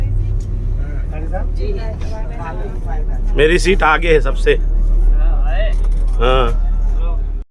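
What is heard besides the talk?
pilgrim tour vehicle driving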